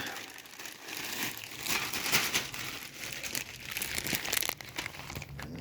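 Continuous crinkling and rustling of a plastic bag being handled up close, steady and scratchy for several seconds, with no voices.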